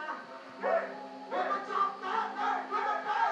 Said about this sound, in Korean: 떼창을 엄청 잘 쳐 관중들이.